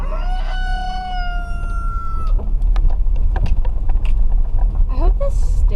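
A rooster crows loudly and close by in a long, drawn-out call at the start, followed by scattered chicken clucks over a steady outdoor rumble.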